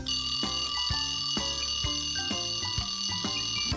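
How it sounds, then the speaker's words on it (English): An alarm clock rings loudly in a bedroom, a steady repeating ringing tone that keeps going without a break, with no voices over it. "The alarm clock began to ring loud."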